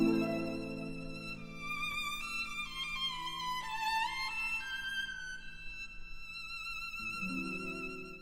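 A solo violin plays the winding Scheherazade theme over soft sustained harp or string chords, high, ornamented and fairly quiet, with no talking.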